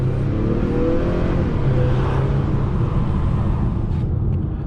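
A 2021 Acura TLX with all-wheel drive and paddle shifters accelerating hard, heard from inside as a loud, steady engine roar with road rumble and a brief whine of wheelspin.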